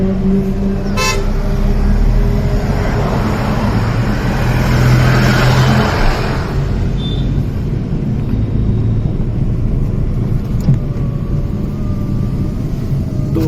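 Car traffic on an Indian road during a trip to Sultanpur National Park, with steady road and engine rumble and a horn tooting near the start. The vehicle noise stays continuous and fairly loud throughout, with no talking.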